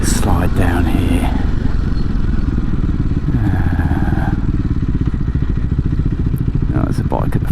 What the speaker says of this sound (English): there's a bike at the front that's going to slow us down a little bit